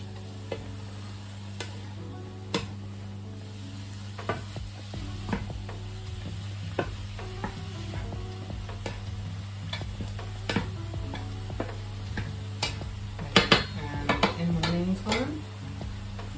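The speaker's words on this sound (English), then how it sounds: "stirring it around, and we just want to make sure that none of the mince is pink anymore" Beef mince browns in a pan for spaghetti bolognese, a steady low sizzle running throughout under frequent sharp clicks and scrapes of a utensil stirring against the pan, with a brief flurry of louder scraping near the end.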